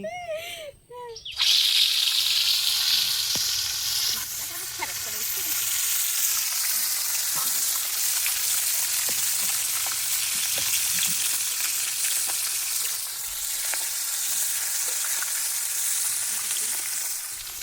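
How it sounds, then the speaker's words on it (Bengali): Pona fish being flipped and fried in a pan, a loud continuous hiss and crackle of hot oil that fills the clip, with a brief voice and clatter at the very start. "মাছটা উল্টে পাল্টে ভেজে নেওয়া হচ্ছে"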